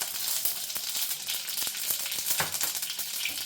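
Mustard seeds and cumin sizzle and crackle in hot oil as a vegetable tempering for a traditional Maharashtrian thali, a steady close frying hiss broken by sharp popping bursts, with no talk.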